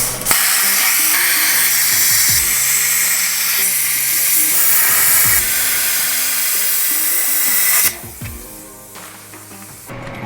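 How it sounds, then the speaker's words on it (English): A plasma cutter slices through a bolt on a big steel trailer hitch, a loud, steady hissing roar running unbroken for about eight seconds before cutting off abruptly, followed by quieter clanks and rattles of metal. "I'm just going to plasma cut it off."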